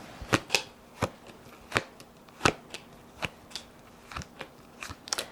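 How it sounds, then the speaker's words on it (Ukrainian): Tarot cards are shuffled and snapped in a quick, irregular series of crisp flicks and riffles, close and clear, with no talking. "Покажіть карти Таро."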